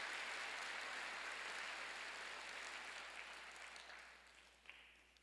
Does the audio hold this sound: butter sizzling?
no